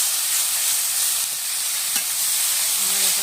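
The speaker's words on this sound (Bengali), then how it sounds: "শাকটা দিয়ে দিচ্ছি" Kaloi greens fry in a hot pan for a prawn dish and are stirred, giving a loud, continuous hissing sizzle close to the microphone, with faint scraping from the stirring.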